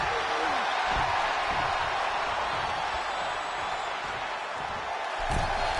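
Crowd noise at a WWE 2K25 wrestling match, a steady dense roar of cheering filling the arena throughout, with faint thuds underneath.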